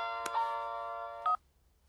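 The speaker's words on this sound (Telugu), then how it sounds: "ఫోన్ వచ్చినట్టుంది." A telephone gives a sustained electronic ring tone close by that holds steady and ends in a brief louder burst before falling quiet, with no voices.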